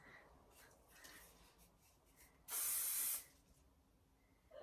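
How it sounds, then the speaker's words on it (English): A single short burst of hairspray hisses onto a wig, loud and close for about half a second amid quiet rustling. "So I hairspray it and I smooth it out with my hand."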